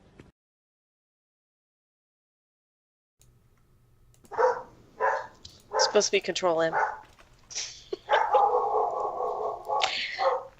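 A pet dog barks several times close by in short sharp bursts and yips, heard indoors after a brief silence, while a person talks briefly over a low background hum.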